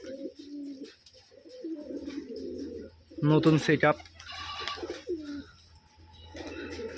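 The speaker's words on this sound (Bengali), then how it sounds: "সাদা একজোড়া কবুতর এই যে নতুন করে সেট আপ দিতেছে" Pair of white Rajshahi Giribaj pigeons at a loft cooing in low repeated throaty bursts, close, with someone talking over and between the coos.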